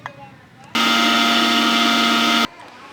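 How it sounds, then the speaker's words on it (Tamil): A mixer grinder jar grinding semolina (rava) starts abruptly, runs as a loud, steady whirring roar for under two seconds, then cuts off sharply, with quiet room sound before and after. "இப்போ எடுத்து வச்சுக்க ரவாவை கொஞ்சம் மிக்ஸி ஜாரில் போட்டு அரைச்சிப்போம்."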